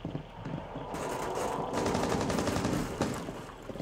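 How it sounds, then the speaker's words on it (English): A shotgun fires in the video game Rainbow Six Siege, in a team deathmatch bomb round on the Park map, with a cluster of sharp, loud shots and mechanical clatter packed into a few seconds. "I shotgunned her, she lives."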